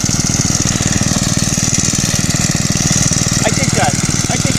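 Two engine-driven machines run together at a fishing wetland, making a loud, steady, rapid chugging close by. Voices talk briefly over the continuous engine noise.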